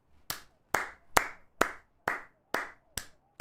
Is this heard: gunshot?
no